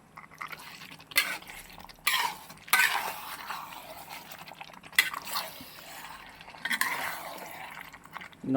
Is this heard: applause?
no